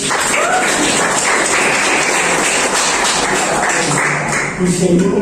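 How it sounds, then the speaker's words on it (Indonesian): Classroom applause for a group presentation: continuous loud clapping from students, sustained for several seconds with some voices and cheering mixed in. "Tepuk tangan lagi untuk"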